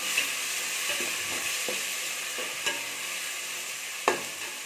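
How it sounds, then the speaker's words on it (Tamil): Ginger garlic paste sautéing in a pan for vegetable biryani, a steady close sizzle broken by occasional scrapes and taps of a spoon as it is stirred. "இஞ்சி பூண்டு பேஸ்ட் சேர்த்து நல்லா வதக்கிக்கலாம்"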